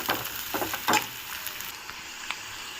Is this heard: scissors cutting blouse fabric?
no